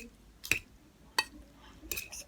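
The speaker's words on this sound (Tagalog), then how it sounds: "Haluin na natin" A utensil clinks and scrapes against a dish while sweet and spicy pancit canton noodles are stirred: three distinct sharp metallic taps spaced about a second apart, close and quiet, with soft shuffling between them.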